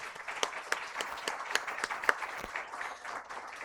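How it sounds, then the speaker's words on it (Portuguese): An audience at a women's safety-panel lunch gives light, scattered clapping for the panel mediator, with sparse claps at moderate distance and no talking. "Então, palmas para a Zenate, por favor."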